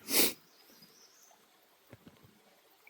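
A single loud, sharp sneeze bursts out at the start, followed by quiet background with a few faint thumps.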